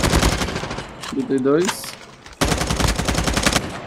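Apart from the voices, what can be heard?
gunfire in a video game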